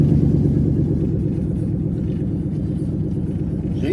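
A truck engine runs steadily at idle after being reconnected, a continuous low rumble holding an even level from start to finish with no other sounds.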